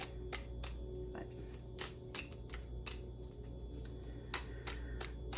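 Cards shuffled by hand at close range, a quiet run of crisp riffling snaps and flicks that repeat in an uneven rhythm over a low steady hum, with no voices.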